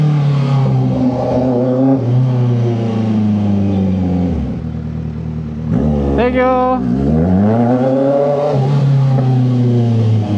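Kawasaki Z900 motorcycle with a full system exhaust revving loudly nearby, engine note climbing and falling through several throttle blips over a rumbling idle, with a brief spoken word.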